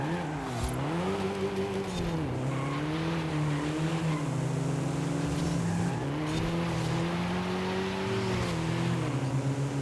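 A stock car in a racing video game holds a loud, continuous engine drone that rises and falls as it revs through drifts, with faint tire squeal mixed in and no voices.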